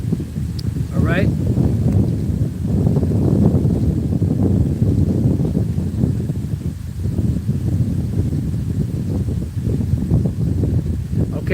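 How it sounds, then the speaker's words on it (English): Wind blowing outdoors and buffeting the microphone, a loud, continuous low rumble with gusty swells that sits under a person talking throughout. "it's a little windy out here"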